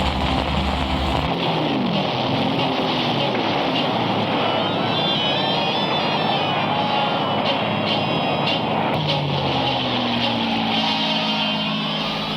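Military aircraft in a dense air battle over Soviet territory, a continuous loud droning engine roar with rising and falling whines layered over heavy rumbling, with no talk.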